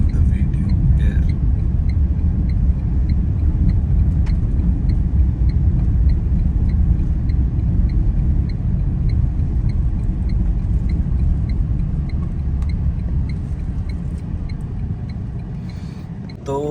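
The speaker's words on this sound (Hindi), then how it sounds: "चलिए यहाँ से यू टर्न हमने ले लिया एंड गाड़ी को साइड लगाते हैं" Inside a Tata Tiago EV electric car making a U-turn and pulling over to the roadside, a steady low road rumble fills the cabin while a person talks throughout.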